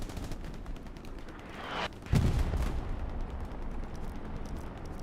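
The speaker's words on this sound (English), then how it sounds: "Rockets sailing to the medium 75" Rocket fire and gunshots in the WWII shooter Hell Let Loose during a competitive PC match: a rushing whoosh builds, then a sharp blast hits, followed by a steady rumble of distant battle noise with no talking.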